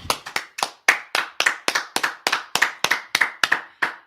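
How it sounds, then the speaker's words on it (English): A small group claps together in a steady run of sharp, close hand claps, about three per second, with no talk over them. "All right, clap it up."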